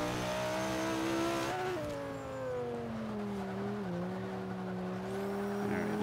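A Toyota Supra A-class race car in Forza 5 holds a sustained engine drone. The pitch steps down as it shifts gears, then climbs and settles again. The engine sounds close and continuous.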